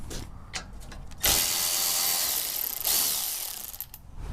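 A power tool whirs in two sustained bursts, backing a 10mm screw out of the wheel well liner tab on a 5th-gen Toyota 4Runner during a front bumper install, with faint clicks and handling noises before and after.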